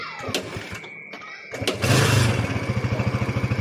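A Kawasaki Barako 175 motorcycle, rebuilt with a new cylinder block, connecting rod, side bearing, timing chain and chain guide, is revved and then settles into a close, steady, rapidly pulsing idle.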